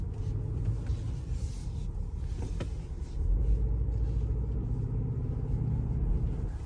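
A 2022 Land Rover Defender 90 S P300 with coil suspension drives onto a rock pad, its engine and road rumble heard steadily from inside the cabin, growing slightly heavier partway through.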